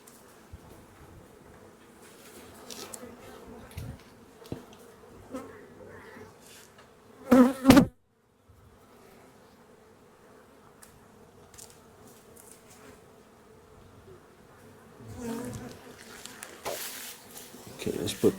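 Honey bees buzz around a hive frame being shaken and brushed off, a steady close hum with louder swells, and people talk over it throughout.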